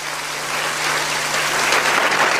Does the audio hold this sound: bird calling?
no